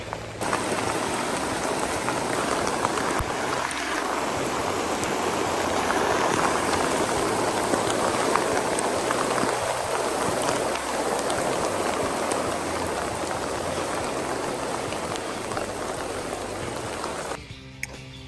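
Heavy rain pours steadily onto tent covers at a campsite, a dense, constant hiss of drops close by lasting almost twenty seconds before cutting off abruptly.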